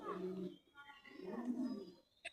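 White King pigeons on a pigeon farm give low, soft cooing calls in two phrases, fairly near and moderately loud, with a brief sharp sound at the end.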